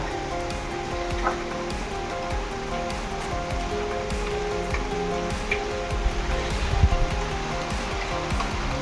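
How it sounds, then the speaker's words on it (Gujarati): Steady rain falls outdoors, a constant even hiss of drops with no pauses and no voices. "વરસાદ શરૂ થઈ ગયો છે."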